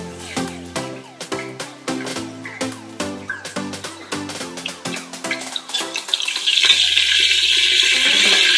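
Cumin powder drops into hot oil in a pan while dal fry is being cooked. A loud, steady sizzle breaks out near the end, after a run of musical notes.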